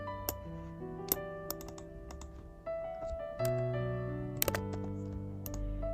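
A computer keyboard is tapped to enter a word into a search bar, a few sparse, light keystrokes over a steady background of sustained tones.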